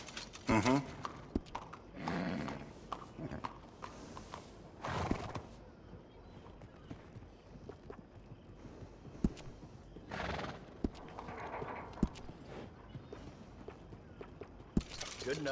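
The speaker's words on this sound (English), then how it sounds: "A well-groomed horse is a real sign of class." A horse in the Red Dead Redemption 2 video game on PC whinnies loudly and close, and its hooves clip-clop at an easy walk. Several more whinnies and scattered hoof clops follow, with quieter game noises in the background.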